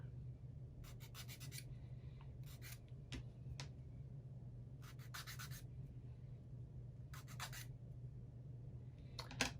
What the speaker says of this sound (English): Both of those need to be sanded a little bit.